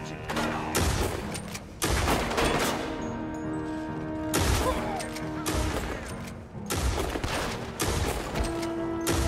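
An Evans repeater rifle and other guns fire in a video game battle, making a dense, loud barrage of overlapping gunshots and booms with hardly any pause.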